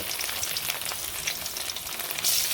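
Small fish sizzle hard in hot oil in a village kitchen wok, a dense, steady crackle and spitting hiss heard close with no talking.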